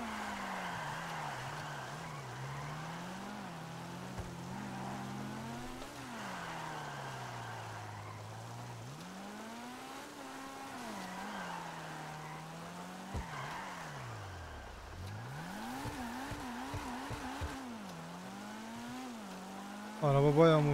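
A car drifting in GTA Online, its engine revving up and down in long sweeping waves as it slides, with a faint tire squeal mixed in and a louder burst at the very end.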